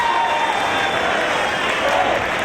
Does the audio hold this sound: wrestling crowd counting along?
yes